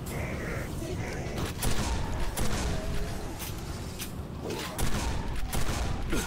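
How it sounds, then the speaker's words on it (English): Quake 4 shotgun blasts in a first-person shooter, several sharp, loud bursts spaced irregularly over continuous game noise and rumble. "I love the Quake 4 shotgun"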